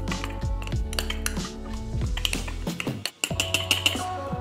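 Sourdough starter flour being stirred together in a jar, giving a quick run of close clinks and scraping knocks against the container, louder at first and then lighter taps.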